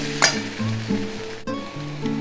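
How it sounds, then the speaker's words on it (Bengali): Spices including cumin powder frying in a pan for potato-onion poppy seed curry, giving a loud close sizzle with stirring clatter and a sharp scrape near the start. "মশলাগুলো দিয়ে আবার ভাজতে থাকছি"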